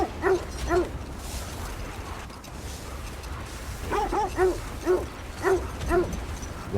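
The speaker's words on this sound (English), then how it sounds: "Why are you guys barking right now?" Sled dogs in God of War Ragnarok barking in a snowy setting, several sharp barks in two bursts separated by a quieter gap, moderately close over a low rumbling background.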